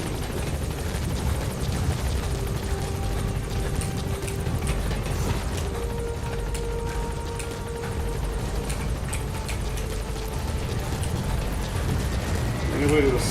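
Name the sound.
helicopters in the video game Metal Gear Solid V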